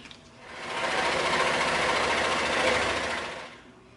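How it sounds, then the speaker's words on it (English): A scroll saw cutting a thick 60 mm piece of EVA foam, a fast reciprocating buzz that ramps up, holds steady for a few seconds close by, then winds down. "we'll take this thick 60 millimeter piece and the 24 over to the scroll saw"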